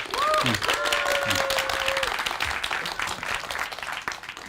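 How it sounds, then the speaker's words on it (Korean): An audience at a Korean AI developer course project presentation claps for the homeroom teacher, a loud burst of applause with cheering voices on top that slowly thins out. "우리 서대희 담임선생님한테 박수 한번 크게 한번 쳐줘"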